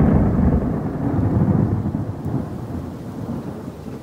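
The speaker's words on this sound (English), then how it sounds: "And in the rain." Heavy rain pouring down during a storm, with a deep rolling rumble of thunder, loud at first and easing slightly, no voices.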